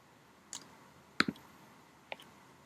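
A computer mouse clicks several times in a quiet room while someone works on screen, making sharp, isolated clicks with one quick double click in the middle.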